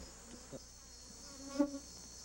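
Faint, continuous buzzing of bees around beehives kept inside a park in Malawi, with a few soft nearby sounds and no talk.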